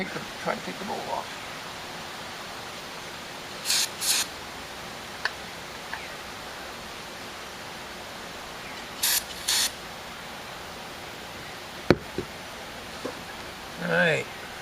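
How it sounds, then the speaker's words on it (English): Cleaner sprayed onto a tractor carburetor bowl during a choke repair, heard as a few short, nearby hissing bursts in pairs against a quiet background, with light ticks and handling noises between them. "And spray it and try to take the bowl off."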